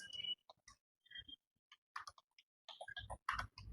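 Slow keyboard typing during typing-exam practice: sparse, irregular key taps with clear gaps between clicks, close and fairly crisp, quickening slightly toward the end.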